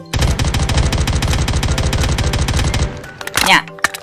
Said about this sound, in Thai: แล้วเราก็แบบกดยิงให้มันหมดไปเลยครับผม